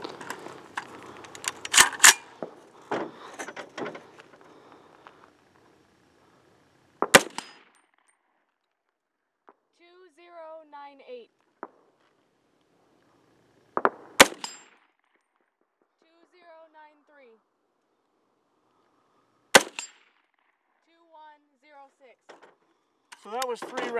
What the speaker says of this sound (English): we're going to shoot three rounds out of the 16-inch barrel over the chronograph